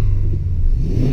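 A Volkswagen Up TSI, with a misfiring third cylinder, revs hard close by, giving a loud, continuous low engine rumble that holds steady throughout the short burst.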